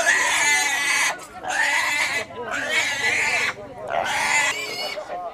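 Black pigs squeal loudly in a highland market's pig-selling area, four long shrill bursts with short gaps, close by amid background market noise and people talking.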